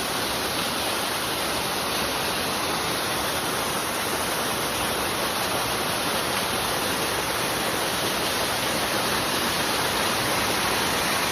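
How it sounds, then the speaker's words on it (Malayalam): Waterfall at Kakkayam Dam roars as a steady, dense wash of falling water, loud and unbroken throughout with no voices. "ഒരു വെള്ളച്ചാട്ടം കാണാം."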